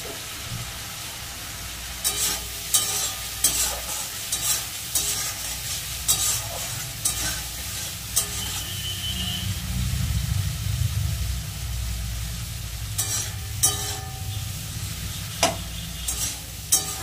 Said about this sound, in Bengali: এবার ভালো করে মশলাটা কষিয়ে দেবো।